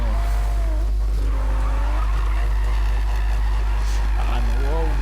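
A Toyota Supra drifting in Need for Speed lets out a long, wavering tire squeal over a loud engine drone, while a voice talks over it throughout.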